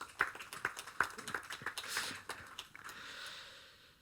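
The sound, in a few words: audience applause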